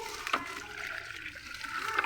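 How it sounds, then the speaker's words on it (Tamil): Water is poured onto garden soil mixed with manure for a plant bed, a soft continuous splashing and trickling with a few sharper splashes, fairly quiet and close. "இப்படி தண்ணி ஊற்றிட்டு நல்லா நல்லா ஊற்றுவோம் தண்ணி ஊற்றுவோம்"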